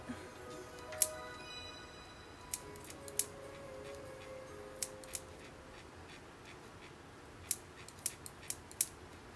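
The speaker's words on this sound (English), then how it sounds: "I like to do this stage with scissors more than a box cutter or just a regular blade" Scissors snip through faux fur while making kitten ears, a quiet room with a series of sharp, close clicks scattered irregularly, some clustered in quick pairs and triplets.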